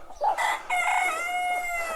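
A rooster crows loudly close by, a drawn-out strained call that follows a short clucking burst, with no talking.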